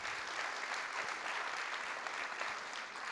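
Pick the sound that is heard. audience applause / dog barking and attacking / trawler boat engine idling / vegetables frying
audience applause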